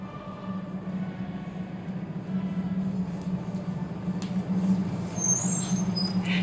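A bus idles and runs with a steady low engine drone, a hiss of air brakes rising near the end, heard close with no talking.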